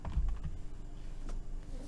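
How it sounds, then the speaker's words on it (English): Furious, rapid typing rattles on a computer keyboard in a dense, continuous stream of clicks, with a low rumble beneath it. "Furious typing."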